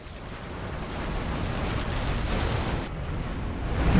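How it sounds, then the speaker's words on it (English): Anthrax bomb blast in a real-time strategy game, a broad continuous rumbling roar that holds steady and swells toward the end, with no speech. "Anthrax bomb."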